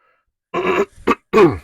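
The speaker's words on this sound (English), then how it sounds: "I was just thinking as I went to clear my throat." A person clears their throat loudly and close by, three rough bursts after a moment of silence, the last one the longest.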